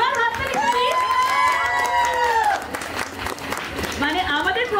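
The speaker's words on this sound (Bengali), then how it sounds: "এবার হাততালি প্লিজ" An audience at a fashion and lifestyle event applauds and cheers while a voice rises in excited, sung-out calls over the clapping, which thins briefly before swelling again.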